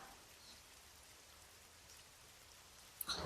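Rain falls steadily outside a hostel near Ooty, a soft, even patter close by, faint and continuous, with a brief knock near the end.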